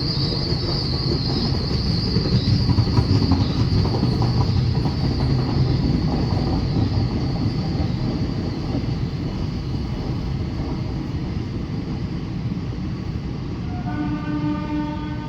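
The Khajuraho Geeta Jayanti Express, train 11841, rolls past on a near-freezing winter morning with a loud, continuous rumble of wheels and carriages, then a horn sounds near the end.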